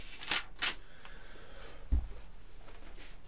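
Monty Python playing cards being shuffled by hand, with two quick riffling bursts early on, a soft thump midway and light card rustling in between, close and fairly quiet.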